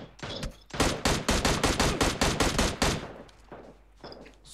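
Automatic gunfire in the mobile shooter game PUBG Mobile: a dense, loud burst of rapid shots lasting about two seconds, preceded and followed by a few scattered single shots, with no speech over it.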